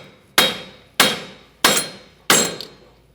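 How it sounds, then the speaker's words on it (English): Four sharp, evenly spaced hammer blows ring out against a Ford Focus steering knuckle (2012–2018 model) to drive it off the front strut, each metallic strike decaying briefly before the next. "I'm going to hammer down on the knuckle to free it from the strut."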